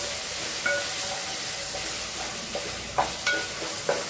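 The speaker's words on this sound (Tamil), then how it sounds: "நல்லா எல்லாத்தையும் கிளறி விட்டுக்கலாம்" Tomato masala for Ambur chicken biryani is stirred in oil in a pan, a steady close sizzle with a few sharp scraping clicks from the spoon toward the end, no talk.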